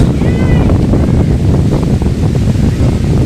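Strong wind roars and buffets steadily across the microphone, a dense continuous rush with no pauses.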